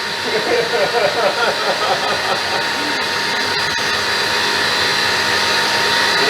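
An electric mixer beating lumps of butter into buttercream gives a loud, steady motor whir with a hissing edge. It pulses unevenly at first, then settles into a constant drone, with faint clicks near the middle.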